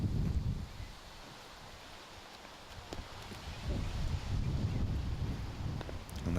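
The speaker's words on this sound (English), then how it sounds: "This wind really is causing havoc today." Strong gusting wind buffets the microphone on a golf course during a match-play event, a rough low rumble that swells and eases in uneven waves with no voices.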